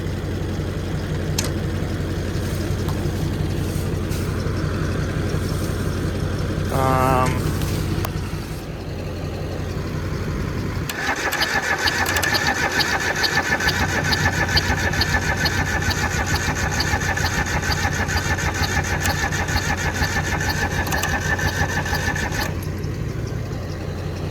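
A diesel-powered Sears Suburban garden tractor cranks and fires, then settles into a steady, rattling idle with a persistent high whine, close by and loud throughout.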